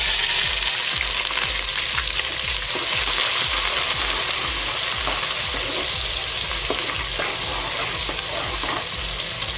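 Chopped onion frying in hot ghee with mixed spices, a steady loud sizzle with rapid crackling, punctuated by frequent soft scrapes and knocks of stirring close by, with no voices.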